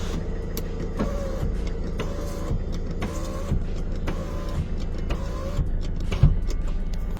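A car's power window motor strains and whirs in uneven pulses while the window won't open properly, heard up close in a quiet workshop with no talking.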